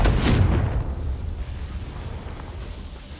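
The Confringo fire spell in Hogwarts Legacy detonates as a loud, close boom that fades into a long rumbling decay over a few seconds.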